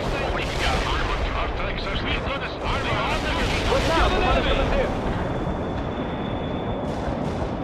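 Airstrike explosions in the World In Conflict video game, Harvest mission: a continuous dense roar of rumbling blasts and gunfire-like crackle that stays loud throughout, with a voice faintly under it.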